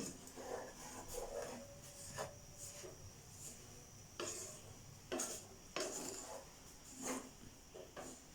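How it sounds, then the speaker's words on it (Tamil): Semolina dry-roasting in a pan for Sri Lankan New Year sweets, heard as soft scraping and rubbing strokes of a spoon at an irregular rhythm, close and fairly quiet with no talk. "இப்போ ரவை வறுபடுது"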